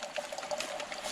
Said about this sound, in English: And just filter away. I mean, it's got a pretty good flow.